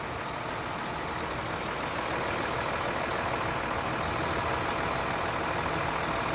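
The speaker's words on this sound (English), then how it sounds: "We're going to start the truck" A truck engine idles at a steady, constant level throughout, a close and continuous mechanical drone with no starting sequence evident.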